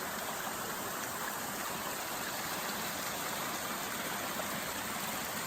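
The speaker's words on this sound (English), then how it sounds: "so nice waterfall." A waterfall along the Snowgrass Flats trail in the Goat Rocks rushes in a constant, even broadband roar, heard close and steady with no other sounds for several seconds.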